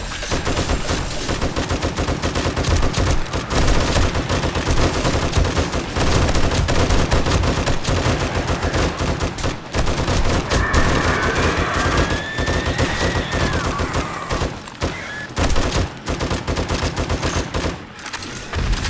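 Loud, relentless rifle fire with 7.62 rounds in Darkness Falls, rapid bursts and continuous volleys overlapping nonstop through a nighttime horde fight, dense and close with no pauses.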